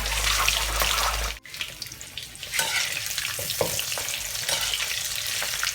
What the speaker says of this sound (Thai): ทอดแป๊บเดียวนะคะพอให้เป็นให้ผิวเขานะคะมี มีความเหลืองๆนิดนึงนะคะ